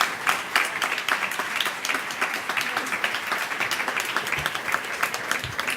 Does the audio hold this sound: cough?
no